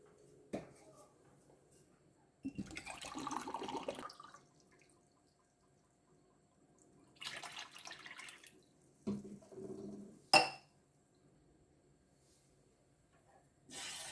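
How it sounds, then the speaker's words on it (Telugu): Water from a glass is poured into a pot of rice flour on a stove in a home kitchen, heard as several short, faint splashing bursts separated by quiet pauses, with a sharp clink partway through. "ఇప్పుడు నాలుగు గ్లాసులు ఇందులో మనం నీళ్ళు పోసుకుందామండి"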